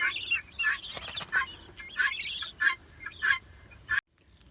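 Free-range farm turkeys call in a run of short, shrill, repeated bursts at a fairly steady rhythm, close by, before the sound cuts off abruptly.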